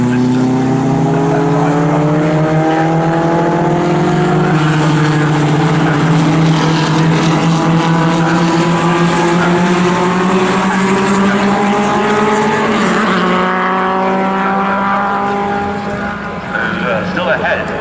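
Pre-1961 sports racing cars roar past the pits in a continuous loud blare, engine notes rising and shifting as several cars pass, while a commentator talks over them throughout.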